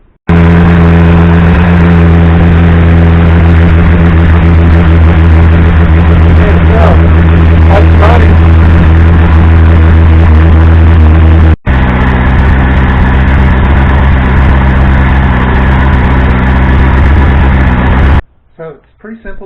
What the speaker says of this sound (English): now I'm going to start the bike, and we'll see how the alternator checks out